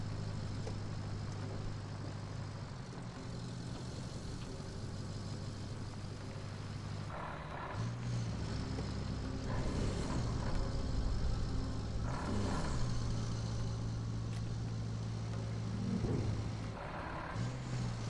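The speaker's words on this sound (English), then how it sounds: "This truck has a gear problem. You can hear it grinding." A heavy work truck with a gear problem in the Roadcraft road-construction video game, its engine droning steadily with a low hum and rougher grinding surges toward the middle and end, alone without talk.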